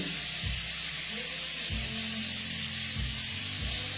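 Loud, continuous hissing sizzle of a beef stir-fry cooking in a hot pot, with low rumbling hum beneath and no pauses.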